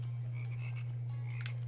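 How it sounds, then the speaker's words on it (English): Frogs croak in the video game Immortal Redneck, a few soft, faint calls standing alone over a steady low electrical hum. "There's some frogs."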